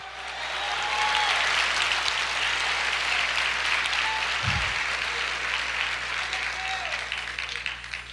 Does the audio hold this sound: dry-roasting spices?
no